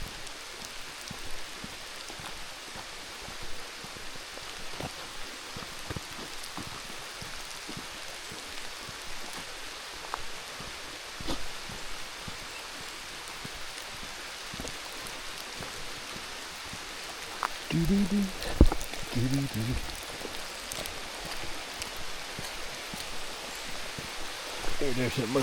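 Light rain falls steadily outdoors near Cedar Falls in Fork Shoals, South Carolina, a soft, continuous patter with occasional closer drops and a few brief louder knocks toward the end.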